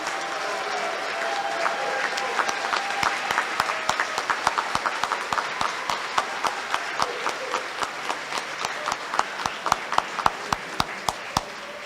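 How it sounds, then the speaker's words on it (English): At a white coat ceremony, an audience gives the three groups a round of applause: dense clapping that starts as a wash and thins into distinct, louder individual claps as it goes on. "let's give them one more round of applause"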